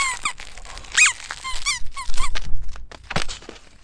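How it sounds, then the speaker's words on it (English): A dog plays with a squeaky toy up close, the toy squealing in rapid repeated bursts amid chewing, light growls and soft whimpers, with no voices. "Oh, Lefty definitely loves squeaky toys."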